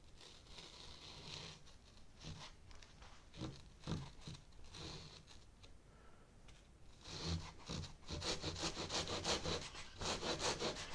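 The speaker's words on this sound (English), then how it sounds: "I just take an old 2x4 and a regular straight saw, and I will do my trim this way." Regular straight hand saw pulled through foam or balsa stock on an old 2x4 while trimming an RC plane elevon; steady rasping strokes build from soft to louder, faster repeated strokes near the end, close up with no talking.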